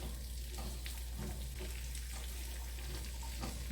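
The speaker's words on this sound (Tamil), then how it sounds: "இப்போ லோ ஹீட்டில் பொன்னிறமாக வறுத்தெடுப்போம்." Semolina dry-roasting in a pan over low heat for rava ladoo gives a steady, soft sizzling hiss with faint scraping stirs, continuous throughout and with no voices.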